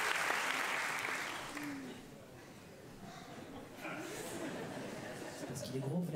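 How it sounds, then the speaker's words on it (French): A theatre audience at a comedy show claps for a latecomer, loud at first, dipping briefly, then swelling again, with chatter and chuckles mixed in and voices talking over it. "vous l'avez applaudi"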